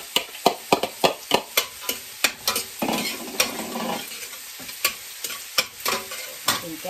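Fried rice sizzles in a hot pan as carrot goes in, with a brisk rhythm of spatula scrapes and clacks against the metal over a steady frying hiss.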